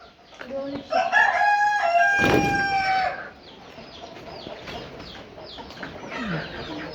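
Chickens on a poultry farm, with a loud rooster crow ringing out early amid scattered clucks and squawks from a flock, softer clucking continuing afterward.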